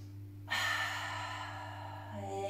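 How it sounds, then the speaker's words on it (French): A deep yoga breath during a hatha yoga session: a sharp, strong inhale that turns into a long, steady exhale through the mouth, close and breathy, continuing alone over a low, constant background hum. "je vais faire un grand inspire, gonfler la poitrine, gonfler le ventre. Et je vais expirer par la bouche"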